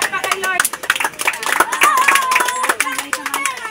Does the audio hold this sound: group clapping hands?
yes